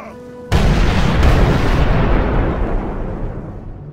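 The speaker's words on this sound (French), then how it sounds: "les canons ennemis vomissent leur premier boulet" A single loud cannon blast from an early sixteenth-century siege cannon erupts suddenly, followed by a long, heavy rumble that slowly fades. No voices.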